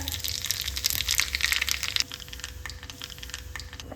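Bay leaves, dried chillies and cumin crackle and spit in hot mustard oil, a bright bursting sizzle that is loudest at first and then settles into a softer hiss with scattered pops, close by and without voices.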